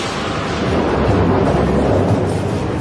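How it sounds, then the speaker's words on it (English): A heavy thunder sound effect, a continuous deep rumbling roar that stays loud and dense throughout with no voices. "Zeus sends a fury of lightning down upon his father's army."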